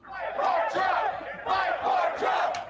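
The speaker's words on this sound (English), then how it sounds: "the crowd goes crazy. They start cheering" A crowd at a political rally yells and cheers in loud, surging waves of massed voices, swelling twice in quick succession with no single speaker standing out.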